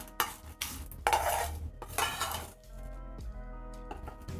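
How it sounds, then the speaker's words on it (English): Spices are spooned into a grinder in a kitchen, giving a series of metallic clinks and scrapes, several sharp taps followed by lighter rattling, close and fairly quiet. "So I'm going to spoon in with the spices. Make sure I have everything in the grinder."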